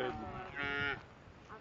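Shorthorn cattle on a farm in Hobart, Oklahoma give a single drawn-out moo, fairly close and clear, rising in the middle and tailing off into quiet ambience.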